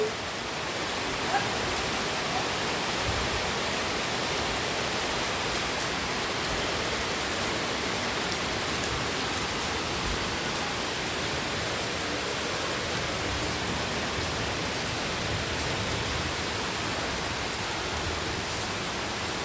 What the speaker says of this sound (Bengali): কি সুন্দর বৃষ্টি হচ্ছে দেখো